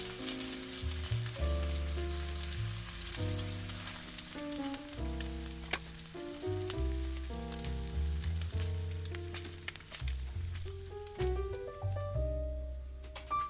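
Tocino fries and caramelizes in a pan with a soft, continuous sizzle, quietly underneath a melodic music track.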